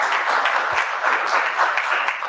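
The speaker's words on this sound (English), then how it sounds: "Can we give them a round of applause?" Applause from a symposium audience at a cancer research event, a steady wash of many hands clapping at moderate loudness for a couple of seconds, with no talk over it.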